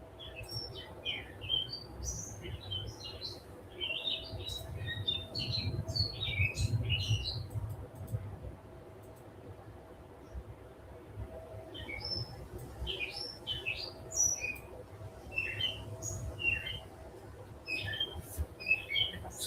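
Birds chirp and squawk outdoors on a spring day in Coral Gables, Florida, with scattered, moderately distant calls in two busy clusters over a low background hum.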